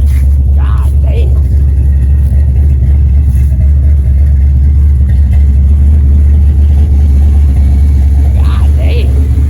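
A 1979 Camaro engine idles a little high, a loud, steady, close-up rumble that holds unchanged throughout with no clear revving.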